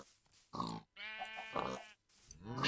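Pigs grunting and oinking in the video game Minecraft, several short nasal grunts in separate bursts, fairly close and clear with no talk over them.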